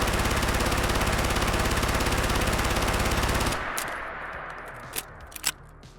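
A PPSh-41 submachine gun emptying its whole magazine in Fallout 4, a fast unbroken burst of loud shots lasting about three and a half seconds, then a ringing tail with a few mechanical clicks and clacks.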